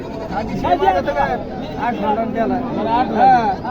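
Goats bleat repeatedly at a busy goat market in Bodhegaon, their wavering calls overlapping with steady crowd chatter and people talking nearby.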